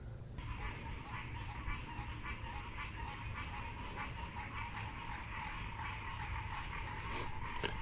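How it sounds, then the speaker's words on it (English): Frogs croak in a chorus beside a creek, a steady faint wash of calls punctuated by occasional louder croaks, with no voices. "frogs are starting to come alive"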